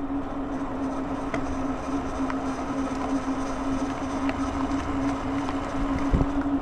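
MoonCool TK1 electric trike riding uphill on throttle alone, a steady motor hum with a constant whine under wind and road noise, no talk.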